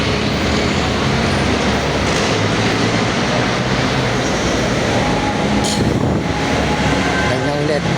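A train ride toward Santolan near Cubao, with a loud continuous rumble of the moving railcar and rhythmic wheel noise, plus brief screeches toward the end.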